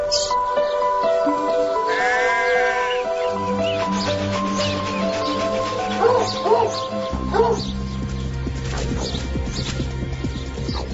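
Young fox and hounds reared together play, with repeated dog barks and yips, a few whimpers and scuffling thumps over a steady musical backdrop, the animal sounds fairly close and moderately loud.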